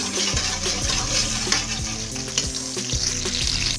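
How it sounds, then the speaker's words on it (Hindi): Chopped onion fries in ghee in a pan, a loud continuous sizzle with rhythmic stirring scrapes and knocks every half second or so, no talk. "गोल्डन ब्राउन होने तक, कलर चेंज आने तक इसकी भुनाई कर लेंगे हम प्याज की"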